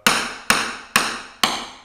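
Rubber tubing made rigid by cooling in liquid nitrogen struck four times at a steady pace, each hit a bright, ringing clack that decays slowly.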